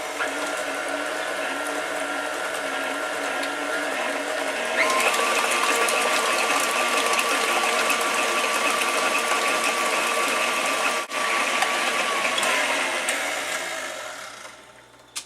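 Electric hand mixer whirring steadily through pumpkin bar batter, running continuously at one speed and then shifting up to a louder, higher setting partway through, close and alone without talk.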